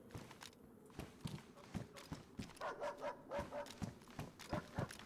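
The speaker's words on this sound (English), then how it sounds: "there's some more dogs coming in." Dogs in the survival game DayZ close in with rapid, rhythmic padding footsteps and muffled yips, moderately loud and drawing nearer, with a player speaking quietly at moments.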